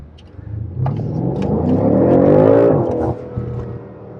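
A stock BMW M5 with a hot-V engine revs up in a smooth, climbing pull that holds briefly, then drops off sharply. A brief second blip follows, close and loud.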